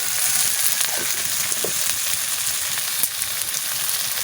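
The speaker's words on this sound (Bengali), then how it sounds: "আপনারা ভালো করে দেখো কি সুন্দর করে কষায় নিচ্ছি" Dried fish curry with turmeric and salt, cooked with potato and eggplant, sizzles and sputters steadily in a pan, with a few soft stirring scrapes, close and even, with no voices.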